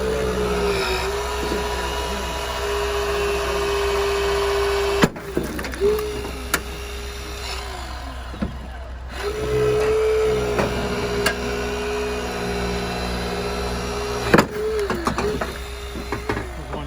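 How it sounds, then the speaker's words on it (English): A hydraulic spreader works on a wrecked 2006 Honda Civic during a rescue training exercise, its pump giving a steady, loud mechanical whine that cuts off and restarts several times, with clicks and metallic knocks between runs. "He got the spreader right at the end."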